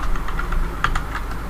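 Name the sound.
typing on a computer keyboard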